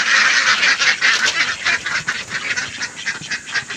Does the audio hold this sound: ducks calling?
yes